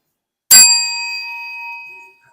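A single bright ding of a small bell, ringing clearly and fading slowly over about two seconds.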